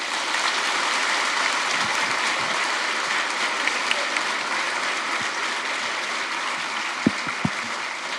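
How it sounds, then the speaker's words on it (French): A debate audience in a university lecture hall applauds two speakers with steady, dense clapping throughout, a few sharper claps standing out near the end. "Je vous demande d'applaudir bien fort Paloma Vicente et Victor Tailleur."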